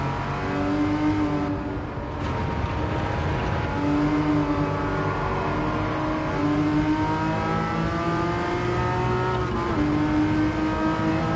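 Porsche Cayman engine in Gran Turismo 7, revving steadily and rising through several gear changes, loud and continuous with a harmonic whine and no talking.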